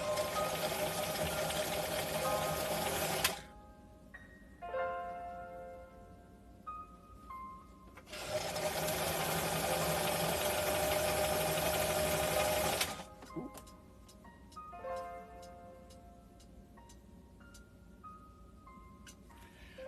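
A sewing machine stitches fabric in two long steady runs of whirring motor noise, separated by quieter pauses with small handling sounds.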